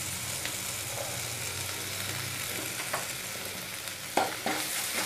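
Crushed ginger frying in oil inside a pressure cooker for khichdi, giving a steady close sizzle with a few scraping stirs and clinks near the end, with no talking.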